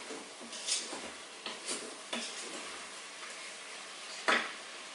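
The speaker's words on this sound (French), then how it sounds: "Je vais rajouter 2 cuillères de fond de veau. Je mélange le tout." Browned meat being stirred with veal stock in a pot, with a few soft scraping and clinking strokes of a utensil against the pot over a quiet background and a sharper knock near the end.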